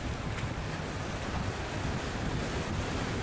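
Sea surf and steady wind roar around a Ninh Thuận fishing boat slowly heading out to sea, with no voices, just continuous broadband wash at an even, fairly loud level.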